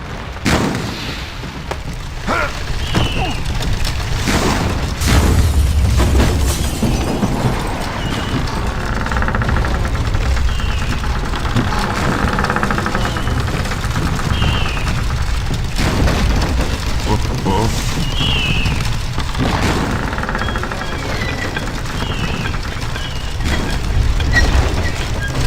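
Heavy explosions and crumbling debris in the PSP game Indiana Jones and the Staff of Kings as a building collapses, a loud, continuous rumble with repeated booming blasts throughout.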